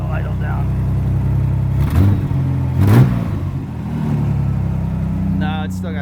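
A Pontiac Fiero GT engine that sat unused for five years runs at a fast idle, a steady low throb with a couple of brief bursts of rise, while people talk briefly over it.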